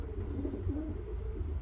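Soft repeated cooing from racing homing pigeons in a loft, one bird's low warbling call rising and falling in a short burst, near and moderately quiet, with no speech.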